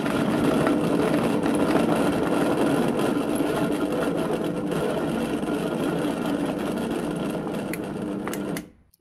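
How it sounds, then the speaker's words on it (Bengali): A blender whirring steadily as it blends slices of bread with lemon juice, a loud, continuous motor drone that holds for several seconds before cutting off abruptly at the end. "এবার ঢাকনা লাগিয়ে নেব, ব্লেন্ড করে নেব।"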